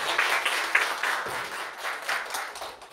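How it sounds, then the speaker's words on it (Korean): Scattered applause from a housing welfare conference audience, moderate and uneven, with distinct claps swelling and easing across a few seconds. "이야기 답변해주신 선생님께 다시 한번 큰 박수 부탁드립니다."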